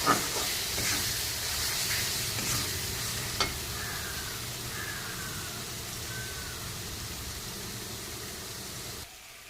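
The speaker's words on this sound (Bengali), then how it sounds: "সব এবার আমি কষিয়ে নেব" Thick spice paste sizzles and hisses in a pan while being stirred, with occasional scraping knocks; the frying stays steady and fairly close, then cuts off abruptly.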